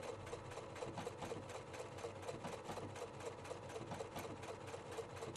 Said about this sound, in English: Sew along the extension and remove pins before sewing into them